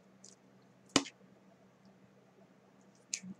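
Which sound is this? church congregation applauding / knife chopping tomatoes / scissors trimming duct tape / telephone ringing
scissors trimming duct tape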